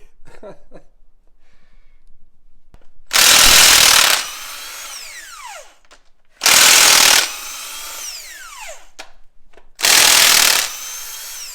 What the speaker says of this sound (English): Taking the heads off.